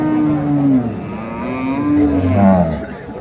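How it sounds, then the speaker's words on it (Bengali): Dairy cows at a village cattle market, some with calves, giving a loud, close, drawn-out moo that rises and falls, with crowd noise underneath. "এটা গরু হাটি। গরু হাটে।"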